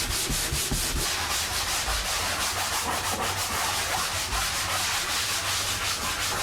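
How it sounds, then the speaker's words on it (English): A rubber sanding block rubs back and forth over Bondo filler on a Sevtec hovercraft hull, making a dense, continuous, close scraping hiss with fast, even strokes throughout. "You should always try to sand with a rubber block and not try to chase pits"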